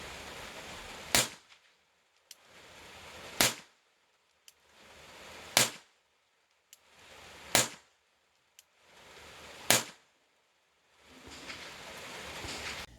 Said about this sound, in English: the only video I could find was shooting some blanks